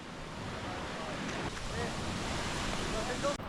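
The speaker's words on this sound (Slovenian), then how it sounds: "Prekrasna plaža Gipe čaka za skok v vodo." Surf washing onto Gjipe beach in Albania, a steady broadband wash of waves with some wind noise on the microphone, fairly close and continuous, with no talk over it.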